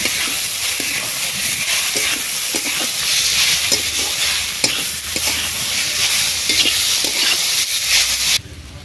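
Slit green chillies stir-fried in a hot pan, giving a steady loud sizzle with scraping stir strokes throughout, cutting off abruptly near the end.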